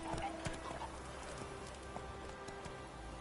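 Roach, the horse in The Witcher 3, gallops in a steady, quick clip-clop of hooves over faint ambient game sound, with light talk in the background.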